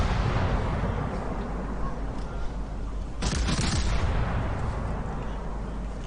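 Warship naval guns fire in the video game World of Warships, a dense, continuous low rumble with one sharper, brighter blast bursting through partway along.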